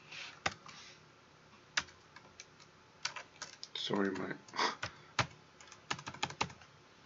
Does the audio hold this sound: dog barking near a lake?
no